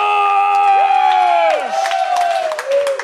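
A live podcast audience cheers and whoops loudly, with rising and falling shouted voices over scattered clapping, continuous throughout.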